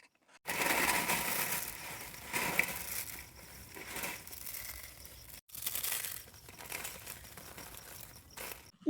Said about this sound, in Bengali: এবার সবগুলো একসাথে ভেঙে মাখিয়ে নেবো।